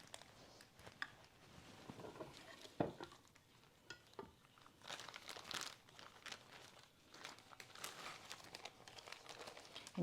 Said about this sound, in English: you peel the plastic off the tortilla